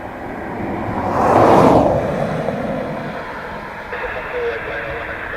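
An Egypt Air airliner at Dublin Airport roars past, its jet whine swelling to a peak then easing back into a steady distant rumble under wind and background noise.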